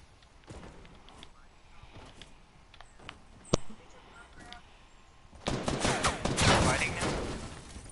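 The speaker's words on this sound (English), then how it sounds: "Who's shooting at me?" Video game gunfire aimed at the player comes as scattered sharp cracks, one loud close shot, then a heavy sustained burst of rapid fire near the end, with a voice speaking over it.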